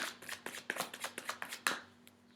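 Tarot cards are shuffled and handled close up: a quick run of soft, crisp riffling flicks and slaps in an uneven rhythm, quiet and alone.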